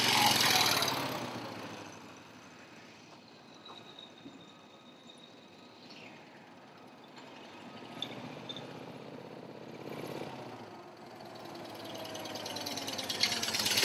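A 1978 Moto Guzzi Convert motorcycle rides past on a road amid traffic, its engine note building from faint to a moderate pass and fading, with a steady background roar of other vehicles.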